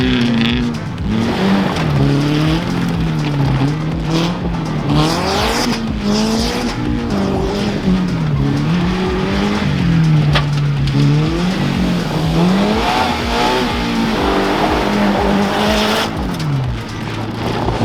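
A totaled Ford Galaxie with a blown transmission drifting in a race, its engine droning loudly while tires squeal in long wavering howls that rise and fall continuously up close.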